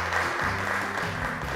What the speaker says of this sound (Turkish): Arkadaşlarımıza teşekkür ediyoruz ve alkışlıyoruz onları.